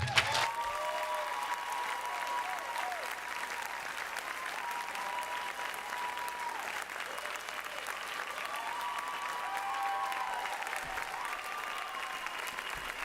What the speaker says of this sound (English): Can we give one more warm round of applause for Utsa?